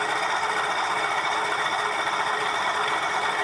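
Spinning rings of a Searl effect generator turning slowly, well under 200 RPM, give a steady, dense whirring hum with a faint mechanical rattle that holds constant throughout.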